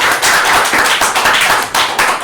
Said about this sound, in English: I'm clapping for that.